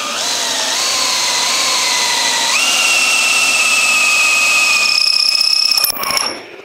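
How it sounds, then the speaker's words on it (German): A cordless drill whines steadily at a high pitch for several seconds while drilling straight into wood, its tone stepping up once, then stops with a short clatter. "ich kann das auch mit dem Akkuschrauber machen"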